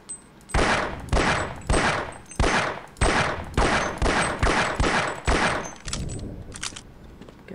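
Gunfire in the Half-Life video game: about ten loud, evenly spaced shots roughly every three-quarters of a second, each a sharp crack with a short tail, with a few quicker softer pops at the end.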